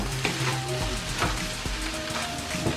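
Ghana-style fried rice sizzling loudly in a hot pan, a dense crackling hiss heard up close, punctuated by several short scrapes and knocks of a stirring spoon, without any voices.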